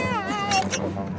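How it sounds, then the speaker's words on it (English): A cat gives a single short meow, close and fairly loud, in a dark setting. "But I heard Hope meow."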